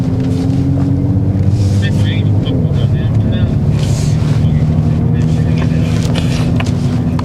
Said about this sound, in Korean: 아, 이게 생각보다 배기음이 조용하군요.